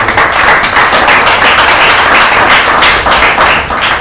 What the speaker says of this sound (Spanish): Dame un aplauso a él nuevamente